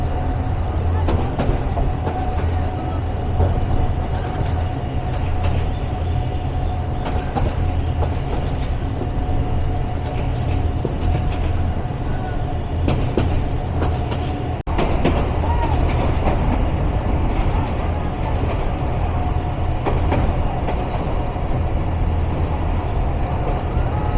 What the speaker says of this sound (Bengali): সামনে থেকে আমাদেরকে নেতৃত্ব দিচ্ছে 27 শ্রেণীর লোকোমোটিভ।